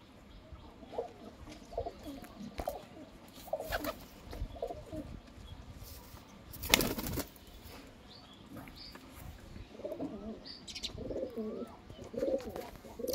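Pigeons with white feathered feet coo repeatedly at a market, soft rolling calls recurring throughout among other bird chirps, with a louder burst of noise near the middle and faint background voices.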